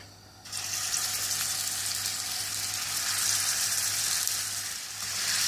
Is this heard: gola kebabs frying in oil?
yes